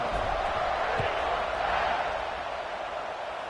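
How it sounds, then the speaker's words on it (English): Dense buzzing roar from a college football stadium crowd at Ole Miss versus Auburn just after a score, a steady wall of voices that eases slightly toward the end. "this crowd is buzzing after that last score"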